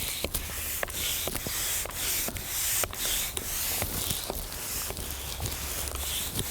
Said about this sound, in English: begin spraying your tree